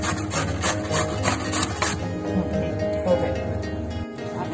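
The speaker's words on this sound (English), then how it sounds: "Then we grate it again." Beetroot being grated by hand for a red sugar beet salad, a steady rasping, scraping rhythm of repeated strokes, close and fairly loud, with faint background sounds.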